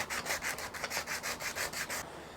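Sandpaper rubbing over the carved wooden body of a scratch-built figure-8 electric guitar, about ten steady back-and-forth strokes at an even rhythm, close and clear, stopping near the end.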